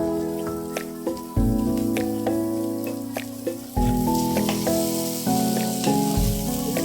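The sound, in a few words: raisins added to hot ghee sizzling while making halwa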